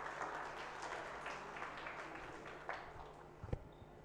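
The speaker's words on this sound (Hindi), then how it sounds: "आप सबकी भरपूर तालियों में" Audience at a school assembly applauding a guest, a soft, fairly distant patter of clapping that gradually thins out, ending with a few louder individual claps and knocks.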